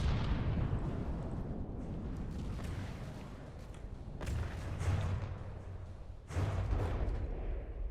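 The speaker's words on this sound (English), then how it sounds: "That cannon is actually quite powerful." A cannon fires during a video game battle, giving deep booming blasts with a couple of heavier impacts standing out over rumbling background noise.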